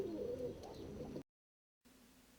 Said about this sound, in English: These are beautiful birds here. These are black lace satinets.